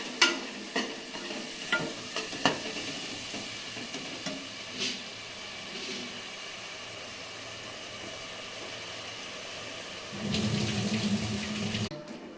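Masala paste being stirred and fried in a pan, a few scraping stir strokes at the start over a low steady sizzle, with a louder burst of sizzling near the end.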